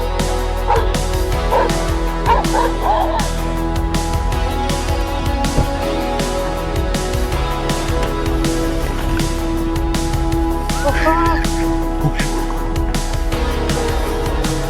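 A house dog barks at an invading black bear: a loud, steady stream of close, rapid barks and yips, some whining, continuing for the whole stretch over a constant low hum of background noise.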